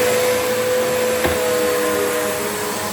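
A Bissell Powerforce 75Q1-E upright vacuum cleaner runs loudly and steadily close by, a constant whooshing motor roar with a tonal hum and no talking.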